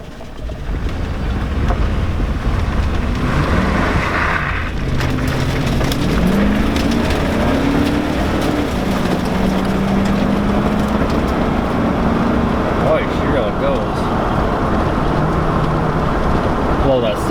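A 2002 Chevy Avalanche with a 5.3L engine idles steadily as it warms up in a driveway, giving a loud, continuous rumble with shifting tonal whine and faint voices at times.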